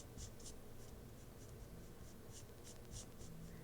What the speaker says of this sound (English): Maybe the marker is drying really fast or something, but it has a lot of texture from the lines going on.